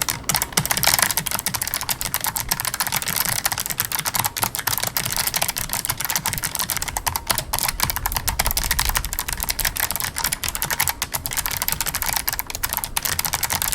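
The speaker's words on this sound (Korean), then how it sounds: "얘는 엄연히 기계식 키보드입니다." Rapid, continuous typing on a Logitech G913 TKL low-profile mechanical keyboard with clicky switches, crisp clacky keystrokes pattering densely and close up, no voices.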